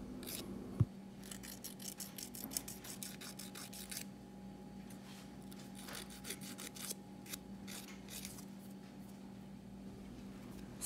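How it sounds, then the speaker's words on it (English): A nail file rubs back and forth over the uneven edge of a fingernail, producing a steady, close, faint rasping with repeated short strokes and no talking. "rub the filer on the uneven parts of the nail"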